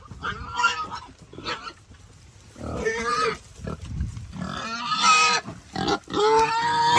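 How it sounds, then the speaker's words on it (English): Pigs grunt and squeal close by in bursts while feeding, with a few snorts and chomping noises between them, on a light rainy day. "So now we got the big pigs lined up and eating."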